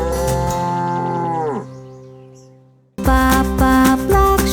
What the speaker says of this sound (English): Cows make the sound